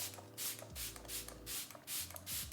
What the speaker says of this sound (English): spray it all with some Fix Plus.